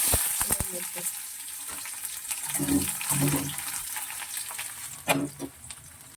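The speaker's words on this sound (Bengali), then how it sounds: "সর্ষের তেলেই করবো পেঁয়াজটা দিয়ে দেবো এবারে" Chopped onion dropped into hot mustard oil in a wok, sizzling and crackling with stirring clatter, moderately loud and close, with a few utensil knocks.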